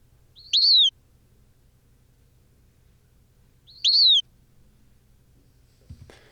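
A bird gives two short, sharp chirps a few seconds apart. Each chirp stands out clearly against near silence, with a faint soft noise near the end.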